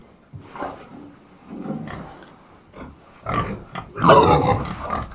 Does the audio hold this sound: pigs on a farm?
yes